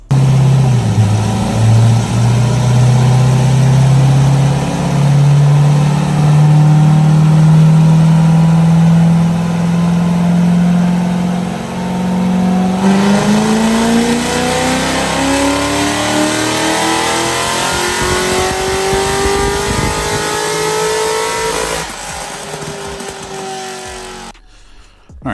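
A Chevrolet Corvette with an LS3 V8 is run hard on a dynamometer, its engine climbing steadily in pitch through one long, loud pull before the note drops away abruptly at the end.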